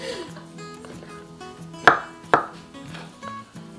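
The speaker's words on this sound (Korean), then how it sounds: "먹기 좋게 썰면 됩니다" A knife chops vegetables on a cutting board while tteokbokki is prepared, with two sharp, distinct chops and softer cuts among kitchen background sounds.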